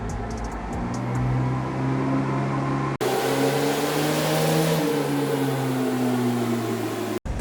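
A turbocharged Toyota 3RZ-FE engine runs on a dyno, droning loudly and close, its pitch climbing and shifting as it is held under load, with two brief cuts in the sound.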